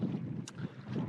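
Persistent sea wind blowing across the coast in June during a shore fishing outing, a low buffeting gust rumbling against the microphone with a brief higher hiss in the middle.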